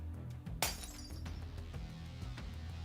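A glass structure shatters in the Nikke video game: one sharp, resounding crack and burst of breaking glass, followed by a low, steady rumble of game ambience.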